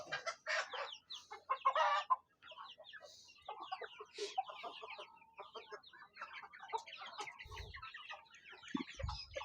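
Free-range local hens roam loose while laying eggs, clucking and cackling in busy overlapping bursts, with a few sharp low knocks near the end.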